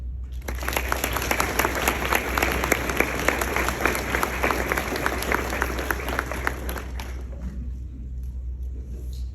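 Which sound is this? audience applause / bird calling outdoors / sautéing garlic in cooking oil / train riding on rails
audience applause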